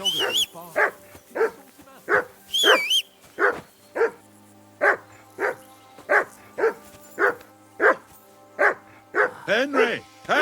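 A dog barks repeatedly in Kingdom Come: Deliverance 2, sharp evenly spaced barks with a few higher yelps, loud and close, over a faint steady background drone.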